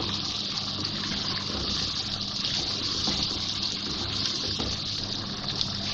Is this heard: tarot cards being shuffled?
no